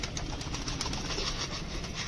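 Pigeons feed on scattered grain, with faint pecking taps and soft rustling over a steady background hiss, a quiet coo or wing flutter mixed in.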